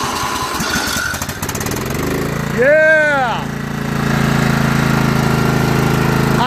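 A small engine leaf machine sputters to life and settles into a loud, steady buzzing run close by, with a brief rising whine as it catches and a short spoken word over the noise.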